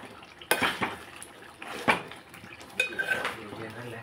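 A metal spoon stirs curry in a cooking pot, giving several distinct scraping clanks against the pot separated by brief pauses, close by and fairly loud.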